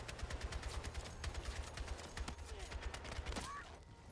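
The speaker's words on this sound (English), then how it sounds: "Is that a shotgun?" Gunfire in an online shooter game, with a burst of repeated sharp shots rattling quickly and fairly loudly throughout, mixed with game ambience and faint footstep-like clatter.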